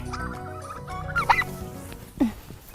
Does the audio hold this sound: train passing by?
no